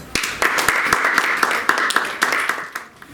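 Scattered applause from a school audience at a secondary public speaking contest as a student is called up, with sharp separate claps and a background voice or murmur underneath.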